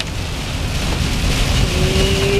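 Heavy, intense rain pounds on a car while it is being driven, a steady dense roar that fills the clip with no break and no talk over it.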